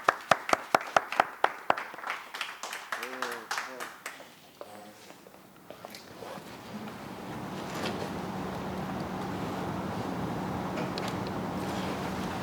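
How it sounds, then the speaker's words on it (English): Audience greeting a rabbi's talk with applause: a few loud separate claps open, a voice speaks briefly, then a broad steady wash of crowd clapping builds and carries on to the end. "Round of applause, please."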